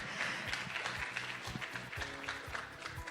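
Audience applauding the speaker, Prof Lynn Loo, at the end of a talk, a moderate hall of clapping with some louder individual claps standing out near the recording, no speech over it.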